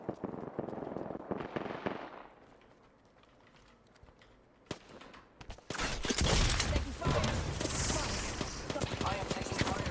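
Apex Legends firefight: after a quieter stretch, heavy sustained gunfire bursts in around the middle and stays loud and continuous to the end, with a voice speaking faintly early on.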